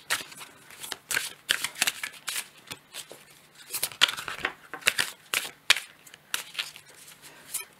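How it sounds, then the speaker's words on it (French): Tarot cards being shuffled and drawn by hand, close riffling bursts and soft flicks in irregular clusters, crisp and fairly loud with short pauses between. "Je vais tirer une autre carte."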